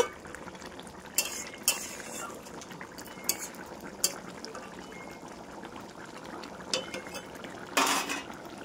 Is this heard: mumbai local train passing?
no